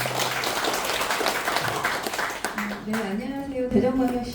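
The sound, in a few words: applause welcoming the speaker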